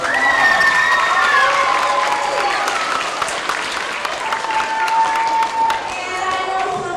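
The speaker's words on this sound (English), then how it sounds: "So give yourselves another round of applause." Loud, sustained applause from an audience of elementary school students at a character education assembly, dense clapping mixed with high children's shouts and cheers, with an adult voice briefly audible over the noise.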